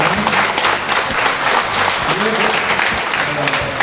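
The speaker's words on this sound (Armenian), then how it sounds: "խնդրում եմ ծափահարենք" An audience at a Muay Thai school event in Martuni breaks into dense, sustained applause, with many hands clapping loudly throughout while voices talk over it.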